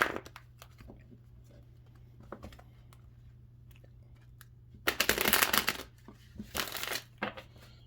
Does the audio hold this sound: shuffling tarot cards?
yes